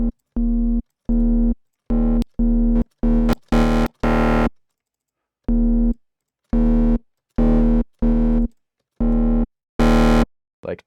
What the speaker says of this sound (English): combining a really low sine wave with one of the harmonics in the harmonic series and then distorting them together